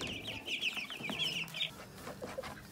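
Chickens cluck steadily inside a coop, with several birds producing a busy, overlapping chatter of short, close clucks that carries on throughout.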